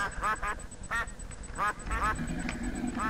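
Ducks from the Mo' Creatures mod in Minecraft quack in a series of short nasal calls, several in quick succession, fairly close and clear over faint game ambience and a steady high tone.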